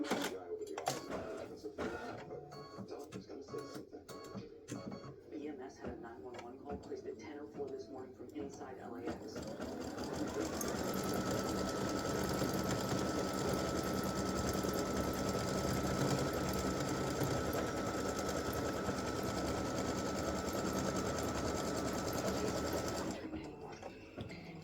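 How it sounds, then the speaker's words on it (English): An embroidery sewing machine stitches an appliqué with a fast, steady mechanical whir. Intermittent clicks and handling noises come first, then continuous stitching runs for several seconds. "I'm going to let the other side stitch."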